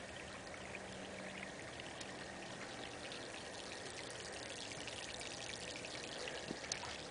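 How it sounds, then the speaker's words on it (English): Steady, continuous rush of water pouring and splashing from a pump outlet, loud and unbroken throughout, with no voices. "I am pumping thousands of gallons of water."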